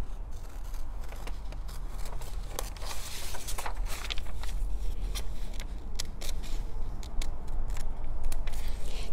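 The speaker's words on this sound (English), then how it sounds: "Cutting in a circle is not easy." Scissors snip steadily through plush minky fabric while cutting a circular shape for a stuffed jelly bean face pillow, a close, continuous crunchy rhythm of cuts with no talking.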